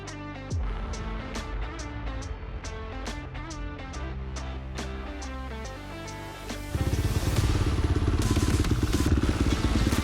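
Motorcycle engine starting up and pulling away on a beach outing at Le Touquet, with a steady rumble that grows louder and denser partway through, with clattering, rhythmic ticks over it.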